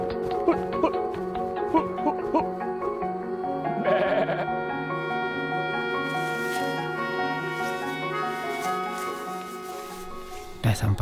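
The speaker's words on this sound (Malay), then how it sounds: "Kambing ni pun sejuk ni." Goats bleat repeatedly on a cold night in the Gobi Desert, Mongolia, with long wavering cries overlapping one another close by, steady for the whole stretch.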